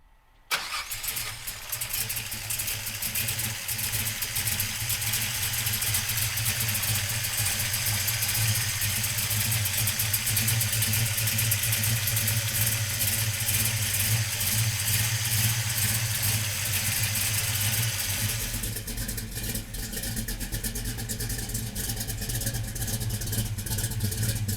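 A 1966 Chevrolet Chevelle with a 396 V8 cranks and fires, then settles into a steady, loud, rumbling idle that carries on without pause, close by and with no voices.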